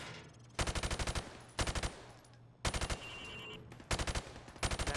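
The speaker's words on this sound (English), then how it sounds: "Now, shoot at the targets while firing from the hip." A rifle fired from the hip at targets on a training range in Call of Duty: Modern Warfare Remastered, five sharp bursts of rapid automatic fire separated by short pauses, loud and close with no voices.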